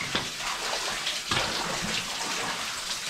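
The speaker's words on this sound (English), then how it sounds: "There's a lot of water dripping down." Water drips and trickles down inside an abandoned mine below a mountain in Scotland, a steady wet patter with splashy close drops running throughout.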